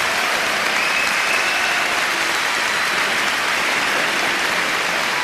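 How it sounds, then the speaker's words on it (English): A large audience at a spiritual lecture in Cancun, Mexico, breaks into dense, sustained applause, a loud, steady wash of clapping with no breaks and no one speaking. "Yeah, go ahead. Applaud yourself."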